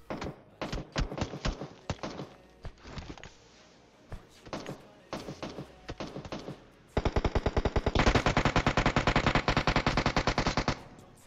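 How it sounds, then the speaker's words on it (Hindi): Heavy automatic gunfire from players upstairs in PUBG Mobile, with scattered single shots and short bursts giving way to a long, loud, rapid sustained burst. "ऊपर वाले बंदे आ चुके हैं गोली गोली पेल ही रहे हैं"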